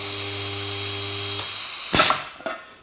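A DIY electronically controlled pneumatic spot welder hums steadily while welding a weakened handle onto a pan, then lets out a sharp, loud burst that fades, followed by a smaller click.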